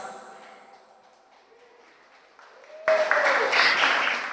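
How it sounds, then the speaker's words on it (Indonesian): Near-quiet room tone gives way abruptly to a loud burst of audience clapping at a Kebumen regency arts and culture gala, and the applause carries on strongly to the end. "Kalau mau tepuk tangan jangan ragu-ragu dong"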